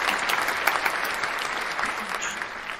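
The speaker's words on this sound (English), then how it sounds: "And I'm going to give me an applause." A burst of crowd applause at a live creative talk event, thick steady clapping with a few louder claps standing out, fading slightly at the end.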